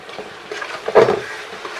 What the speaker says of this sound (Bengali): এবারে এর মধ্যে কিছু বাটা পেঁয়াজ দিয়ে দিচ্ছি।